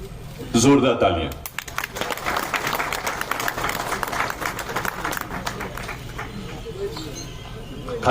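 Loud applause from a seated audience at the inauguration of the J&K Trade Show 2024, a dense burst of clapping that starts after a short spoken phrase and continues steadily for several seconds.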